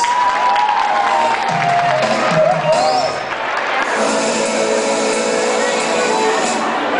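A lively crowd applauding and cheering, with voices mixed in and a steady wash of clapping that carries on throughout.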